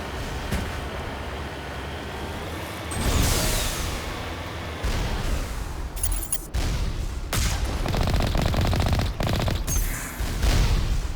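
Turret gunfire in the video game Mass Effect: loud, dense bursts of rapid automatic shots in waves, with booming impacts between volleys and no talking.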